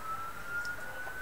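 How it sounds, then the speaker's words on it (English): Emergency-vehicle siren from a TV series playing downstairs, a faint steady wail heard at a distance through the house, continuous for the whole moment with no talk over it. "don't mind the sirens, guys. My dad's watching something downstairs"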